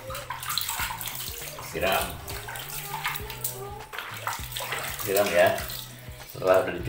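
Water splashes and pours steadily while a baby monkey is bathed, with soft talking in Indonesian over it and occasional louder gushes.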